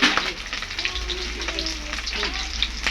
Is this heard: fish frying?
yes